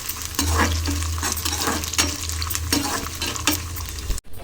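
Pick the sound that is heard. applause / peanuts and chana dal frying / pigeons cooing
peanuts and chana dal frying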